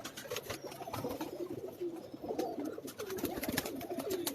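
Pigeons on a Karachi rooftop coo softly in low, rolling calls that overlap and repeat, with faint clicks and rustling around them, fairly close but not loud.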